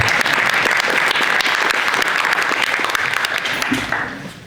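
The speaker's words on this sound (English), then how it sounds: "Give yourself a round of applause." A crowd applauds at a department Juneteenth celebration, with steady, dense clapping that holds for several seconds and then fades toward the end.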